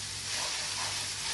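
Chilies hitting hot fat released from fried mince in a pan give a steady, close broadband sizzle and hiss with no pauses, filling the short moment without any voice.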